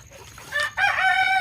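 Village rooster crowing in a breeding cage, one close crow that starts with a short rising call and then holds a long, loud, harmonic note, with soft low background noise.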